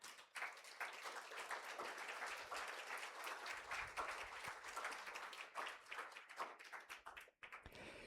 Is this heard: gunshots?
no